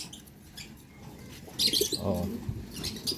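Domestic pigeons in a backyard loft coo and flap their wings, a close burst of wing beats followed by soft cooing and light chirps over a quiet background.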